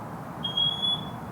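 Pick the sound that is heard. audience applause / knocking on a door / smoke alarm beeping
smoke alarm beeping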